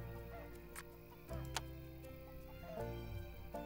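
Chickens cluck in the Farm Manager 2018 game soundscape over a steady low background drone, with a few brief sharper clucks standing out.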